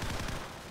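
Video game gunfire rattles in a rapid burst of close shots that cut off abruptly, loud and dense, with no speech.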